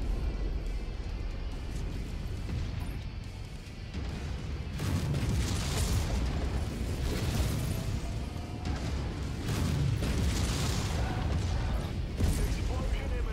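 In the mech combat game MechWarrior 5, explosions and mechanical booms blend into a continuous low, rumbling din of battle that swells and recedes at moderate volume.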